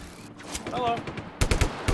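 Rapid machine-gun bursts rattle in a video game, a quick string of close shots near the end after a brief stretch of voice and ambient sound.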